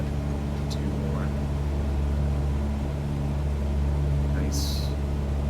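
A Cessna light aircraft engine hums steadily in Microsoft Flight Simulator, a constant low drone held throughout with faint brief noises over it and no talking.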